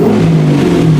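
A Porsche 944 fitted with a V8 engine accelerates on its first ride, a loud, close engine roar with a rising pitch for about one second.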